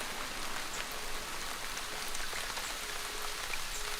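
Heavy rain falls on a Caribbean forest in Cuba as a dense, steady hiss of drops, even and continuous throughout with no voices.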